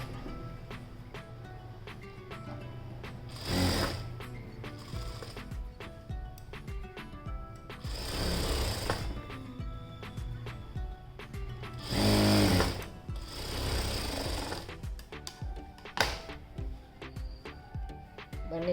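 Sewing machine stitching the lining of a kurti, a steady close whirring with a few louder bursts as the stitching speeds up, running continuously with no talking.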